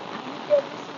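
Heavy rain pours steadily over a village, a dense even hiss close by with no break, a brief tonal blip partway through.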